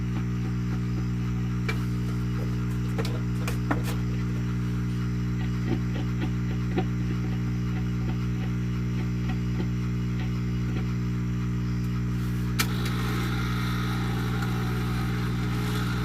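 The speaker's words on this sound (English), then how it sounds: "I hear noise in the speakers when I rub the needle" An old 1950s German Telefunken stereo three-tube record player buzzes with a steady mains hum through its speakers, broken by sporadic faint scratchy clicks and a louder crackling burst as the needle is rubbed.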